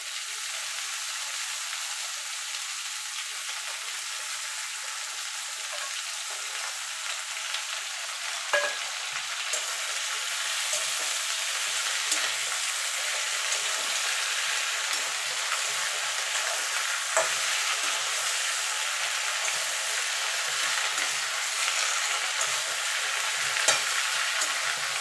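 Pumpkin and potato frying in a pan for a vegetarian Malabar spinach dish, a long steady hiss of sizzling oil with occasional light stirring clicks, close and unbroken, no voices.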